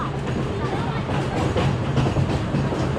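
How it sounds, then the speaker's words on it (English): A mine train roller coaster at Hersheypark rumbles and clatters along its track with steady, loud mechanical noise and wind, heard from on board with faint voices mixed in. "second time riding the mine train"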